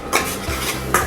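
Spices with chili powder stirred in a pan, with utensils scraping and clinking against the metal in a few close strokes; no talking.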